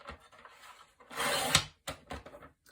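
Paper for a mini album pocket page is sliced close up, with a short rough scraping rasp about half a second long, followed by a few soft taps and light handling sounds.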